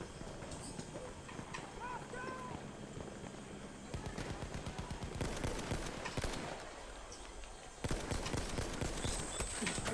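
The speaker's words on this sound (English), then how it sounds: "There's a lot of shots." Gunfire in the World War I shooter Battlefield 1, with bursts of rapid shots and sharp cracks that intensify toward the end, mixed with game noise and players talking.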